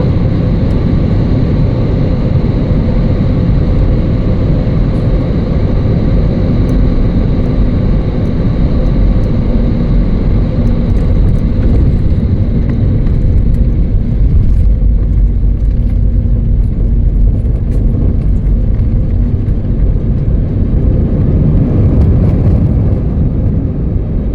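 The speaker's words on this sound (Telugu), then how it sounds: "ల్యాండ్ అవుతుంది చూడండి ఫ్లైట్" Steady loud jet-cabin roar of an airliner descending to land at Hyderabad airport on a flight from Bhubaneswar, a continuous broadband rumble that holds constant throughout with no voices.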